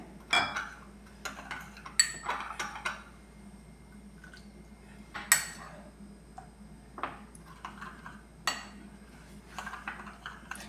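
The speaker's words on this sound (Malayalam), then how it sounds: "ഇത് നന്നായിട്ടൊന്ന് മിക്സ് ചെയ്ത് കൊടുക്കാം" A spoon mixes instant coffee with hot water in a cup for cold coffee, giving intermittent bright clinks and scrapes against the sides, close and fairly quiet over a low background hum.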